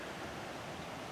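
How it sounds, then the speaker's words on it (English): A rushing, broadband roar of turbulent water fills the short stretch, steady and close, from white water rapids on the Verde River. "we can see some white water down there"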